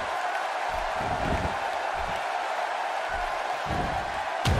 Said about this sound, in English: This is an electric crowd here tonight, and we're hearing from them every time these competitors make a move.